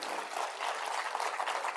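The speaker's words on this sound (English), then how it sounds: "So I think a big round of applause for the lady as well." An audience applauding at a business plan competition, a dense, even wash of clapping that holds steady for a couple of seconds, moderately distant, with no voices over it.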